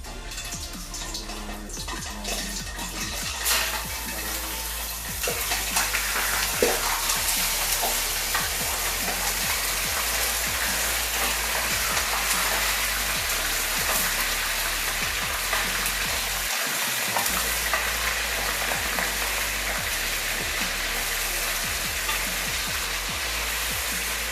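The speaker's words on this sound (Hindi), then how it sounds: "चिकन को जो है ना फ्राई करना है जब तक इसका जो है ब्राउन रंग इसमें आ जाता है, तब तक इसको फ्राई करना है।" One kilogram of chicken frying in hot oil in a karahi for a Peshawari charsi karahi, a loud, steady, dense sizzle that continues for the full stretch, with occasional stirring scrapes and no voices.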